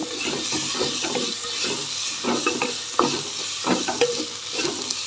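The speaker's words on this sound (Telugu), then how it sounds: "మొత్తానికి కొంచెంసేపు వేగాలి" Okra and tomato fry sizzling in a pan, stirred repeatedly with a spatula, giving rhythmic scraping strokes over a bright, continuous close-up sizzle.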